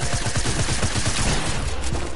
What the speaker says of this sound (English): Y'all both shooting at me, you know.